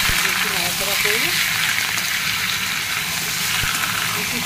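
Chicken with onion, garlic, ginger and bay leaf frying in hot oil while stirred, a loud steady sizzle throughout with a voice speaking briefly over it at the start.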